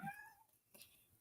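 A cat meows indoors, one drawn-out, fairly close meow at the start that fades, followed by a softer, brief sound and quiet room noise.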